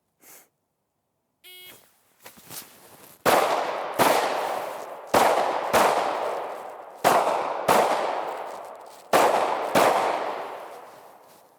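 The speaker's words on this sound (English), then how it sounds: "I'm squeezing the trigger with just the amount of energy I need to make that shot." Pistol shots fired while shooting on the move, seven sharp loud cracks at uneven intervals, each with a decaying echo, preceded by a few softer clicks and a beep.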